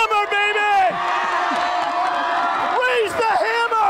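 Crowd cheering at a Vikings game, a sustained roar of voices with whoops and hollers, loud and continuous, rising again near the end.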